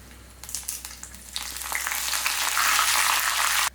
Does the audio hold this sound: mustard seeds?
yes